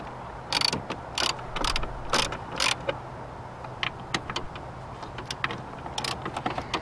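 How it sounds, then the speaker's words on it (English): Bolts being removed from the gearbox tray of an Opel Zafira, with a run of sharp ratchet clicks and metallic tool taps in short bursts, close and moderately loud, with no talking. "Now we have three bolts that hold this tray, so we have to remove all three."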